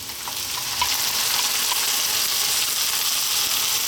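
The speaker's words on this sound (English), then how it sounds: "we're going to drop in 1 can of tomatoes" One can of tomatoes hits a hot pan for an eggplant arrabbiata sauce, setting off a loud, steady sizzle and crackle that holds evenly throughout with no voices.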